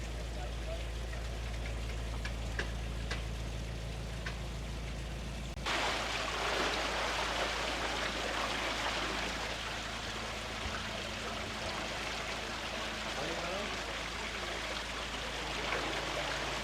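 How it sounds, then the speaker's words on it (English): Water rushing out of a canal lock on a narrowboat holiday, a continuous loud churning flow that jumps sharply in volume partway through and holds steady, with faint voices in the background. "while waiting for the water to empty from the lock"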